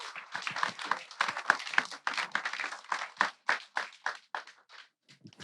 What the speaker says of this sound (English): Let's give Gregor a beautiful applause, please.